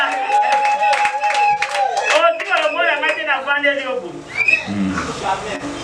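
A church congregation claps and cheers in acclamation during a service, with voices calling and singing over the steady clapping throughout.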